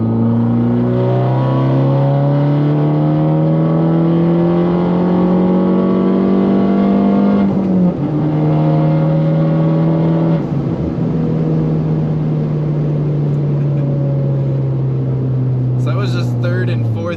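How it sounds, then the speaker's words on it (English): A car engine revs hard in third gear from about 3,000 rpm, its loud, close tone climbing steadily in pitch. Two brief dips follow where the engine note drops and then climbs again. "I'm at 3 3K RPMs, 3rd gear, and I'm just going to go for it."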